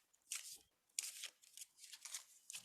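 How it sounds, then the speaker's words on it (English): Oracle cards being shuffled by hand, a series of crisp papery riffles and swishes in several bursts, close and fairly quiet, with no talking. "see me shuffling. I've gone to my other deck of cards now"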